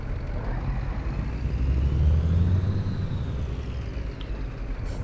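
Truck engine in Euro Truck Simulator 2 rumbles low and steady, swelling slightly in the middle before easing back, heard alone at moderate volume.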